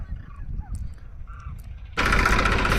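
A low tractor engine rumbles close by in a groundnut field, with faint bird calls above it, then a loud broadband roar abruptly takes over for the final second.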